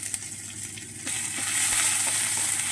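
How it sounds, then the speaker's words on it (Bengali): Fennel seeds, asafoetida and grated ginger sizzling in hot oil for pea kachori, a steady close frying hiss that grows louder and brighter partway through as the ginger goes in, no talking. "দেখুন মৌরিটা হালকা ভাজা হয়ে এসছে এরপর আমি এখানে হাফ পিঞ্চ এক এক পিঞ্চের মতন হিং দিলাম আর রেড করা আদাটা দিয়ে দিলাম"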